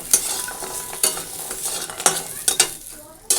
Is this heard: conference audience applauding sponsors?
no